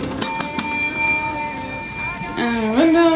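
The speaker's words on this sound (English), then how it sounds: "There's a little bell over here." A small bell is rung indoors, giving a couple of bright, close strikes that ring on and slowly fade, followed near the end by a brief voice-like warble.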